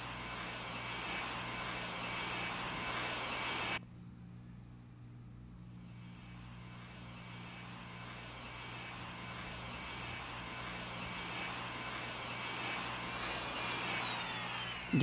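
An airliner's engines in the Airline Commander game drone steadily, cut to a quieter hum partway through during an engine failure, then rise back into a whining tone, with no talking.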